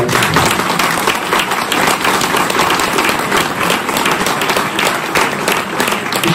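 A crowd in a renovated festival hall bursts into loud, sustained applause, thick continuous clapping that fills the room evenly for over six seconds.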